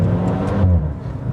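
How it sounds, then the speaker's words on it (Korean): A Maserati Ghibli Hybrid engine in sport mode revs, a short, loud low-pitched surge that swells and then drops away, with no voices. "이 마세라티 특유의 사운드도 들리고 치솟는 엔진 회전수도 확인할 수가 있습니다"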